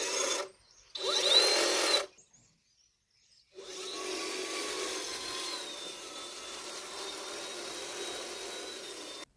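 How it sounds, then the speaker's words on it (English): An 82-volt battery-powered hedge trimmer cutting an arborvitae hedge: two short bursts of buzzing blades separated by pauses, then a longer sustained run of cutting, close and moderately loud with no voices. "I am going to be using my battery-powered hedge trimmer. It is using an 82-volt battery."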